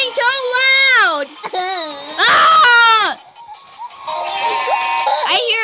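A child imitates a goat, letting out loud, quavering bleat-like cries in bursts. Playful shouting and talk follow during a noisy game at home.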